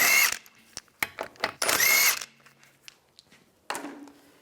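A power tool fitted with a 17mm socket removes the rear wheel lug bolts on a 1998-2010 Volkswagen Beetle, giving several short, sharp whirring bursts separated by quiet pauses, close and fairly loud.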